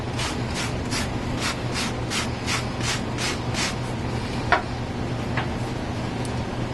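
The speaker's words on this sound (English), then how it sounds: "Take the lint brush, go over the bottom of the hat." Lint brush swept over the bottom of a white New Era hat: about ten quick, regular brushing strokes, close and soft, then a couple of fainter rubs over a steady low background hum, no talk.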